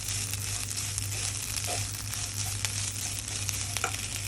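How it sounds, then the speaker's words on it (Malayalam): Curry leaves and green chillies frying with coconut produce a dense, continuous sizzle and crackle in a pan, with faint pops over a low steady hum. "കറിവേപ്പിലയും പച്ചമുളകും ഇട്ടു കേട്ടോ"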